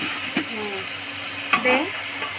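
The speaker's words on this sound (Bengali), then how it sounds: "এখানে হচ্ছে মুরগি ভাজাগুলা দিয়ে দিয়েছে। এটা কি আরো কষাবে" Fried chicken pieces stirred and sautéed in a hot pan, with an ongoing soft sizzle, a few scraping stirs and a louder sputter of frying toward the end.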